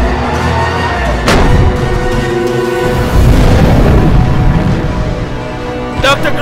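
Naval gunfire explosions in a Hindi-dubbed monster action film, heavy booms at about 1.3 and 3 seconds followed by a rumbling tail and a sharp crack near the end, with talk in the mix.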